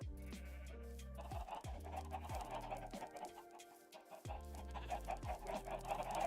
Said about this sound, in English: I just wanted to get away from all of these loud chickens.